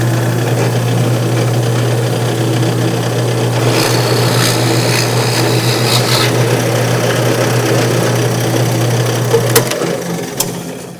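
A drill press motor whirs steadily and loudly as the drill bit grinds into material, the tone dropping near the end as it winds down.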